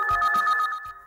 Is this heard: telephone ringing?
yes